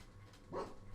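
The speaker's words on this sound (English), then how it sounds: "Fucking dog trying to ruin my recording." Zara the dog lets out a single short bark, fairly close and moderately loud, over a low steady background hum in a room.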